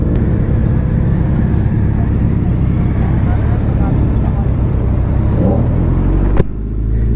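A Suzuki Hayabusa motorcycle fitted with a TVR exhaust rumbles loud and close in a steady, continuous drone, racing alongside a Z900, with a voice talking over it before the engine note drops suddenly near the end.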